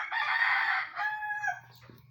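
A rooster crows loudly and close in Davao, Philippines, one long strained call trailing off, with a low hum underneath.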